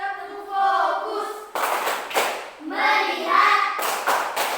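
Hands clap in a rhythmic classroom clap routine. Sharp bursts of claps alternate with a chanting voice, loud and close, in a call-and-clap pattern.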